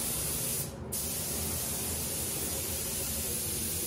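An aerosol spray can applies paint to a Rolls-Royce Corniche, giving a steady close hiss that cuts out briefly after the start and then runs on evenly.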